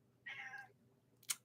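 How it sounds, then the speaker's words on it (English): A pet cat at home gives one clear, drawn-out meow close by, followed after a short pause by a brief, sharper second cry, in an otherwise quiet room. "that's my cat Cleo"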